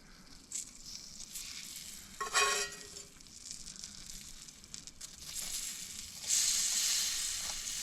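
Spicy bacon and a peanut butter and jelly sandwich sizzle in a hot pan on a camping stove in a van, a steady crackling hiss that swells loudly partway through and again near the end, with no talking.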